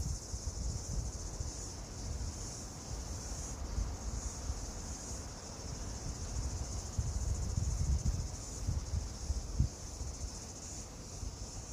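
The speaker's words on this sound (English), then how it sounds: "I hope you can hear the birds in the background and the cicadas and the breeze." A constant high-pitched insect drone fills the air over soft, rushing breeze, steady and outdoorsy with no pauses.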